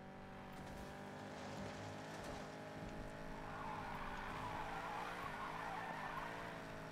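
In Need for Speed Payback, a car drifts with a sustained, faint tire squeal over a steady engine drone, the screech rising in intensity toward the end.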